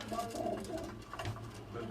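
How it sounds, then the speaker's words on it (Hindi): Banded pigeons coo softly and repeatedly on a rooftop loft, a low murmuring call under light background noise and faint voices. "ये उनके कोई पट्टी वाले जो कबूतर हैं ये आपको दिखाए जा रहे हैं"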